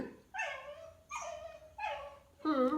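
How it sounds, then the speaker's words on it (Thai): A pet dog barks near a cushion being made at home, four separate high, whiny yips spaced roughly evenly, fairly quiet against a still room. "เธอมาเห่าทำไม"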